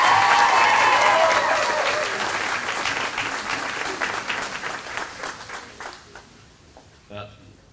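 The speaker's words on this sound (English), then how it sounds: "Let's give a rousing applause to Mr. Rene Cardenas, owner of Cardenas Mazda" Applause for Rene Cardenas, owner of Cardenas Mazda, at a perfect attendance car giveaway: a burst of crowd clapping with some cheering that starts strong and gradually thins out to scattered claps, then a brief voice.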